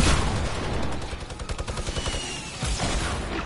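Sustained video game gunfire rattles through the whole stretch in dense, loud rapid bursts with booming hits.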